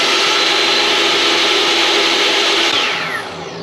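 A power saw cuts a small sliver off a wooden piece for a router table cabinet, a loud, close, steady whining buzz that holds for a few seconds and then winds down as the blade slows.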